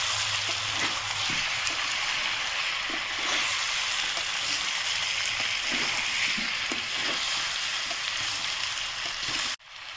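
Meat and potatoes frying in an electric pan, stirred with a wooden spatula: a steady close sizzle with soft scraping strokes throughout, ending abruptly.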